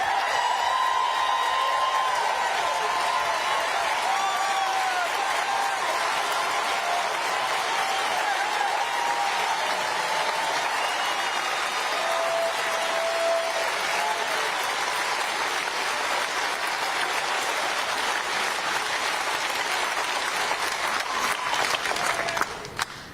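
Sustained applause and cheering from a crowd at a political speech in Portland, Maine, a long, loud, unbroken wall of clapping with shouts and voices mixed in, ending abruptly.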